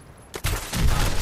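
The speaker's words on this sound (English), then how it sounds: "Who's shooting?" Gunfire in the video game Fallout 4 breaks out after a quiet moment, giving a rapid burst of loud shots that fills the rest of the brief moment.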